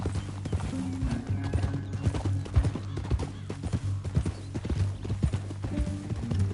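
Steady clip-clop of horse hooves with a horse whinnying in the video game Red Dead Redemption 2, over a low droning background; no talking.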